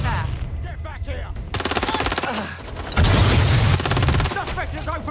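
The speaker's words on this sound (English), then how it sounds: "Suspect has opened fire!" Bursts of automatic gunfire ring out in Watch Dogs Legion, loud rapid volleys in two main stretches, with shouted voices and game effects mixed in.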